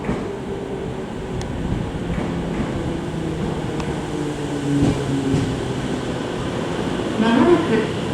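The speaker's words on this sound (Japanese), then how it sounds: "The local train bound for Nishikurabashi is arriving at track 2." A Tokyo Metro Tozai Line subway train pulls into Myoden station with a low, building rumble and a few metallic squeals, under a recorded platform announcement voice.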